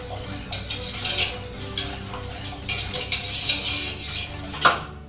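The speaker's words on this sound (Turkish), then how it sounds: "Karıştırarak eklersek iyi olur." Egg and milk are stirred into warmed cream with sugar and pistachios, a close run of swishing spoon strokes and clinks against the pot, ending in a sharper knock.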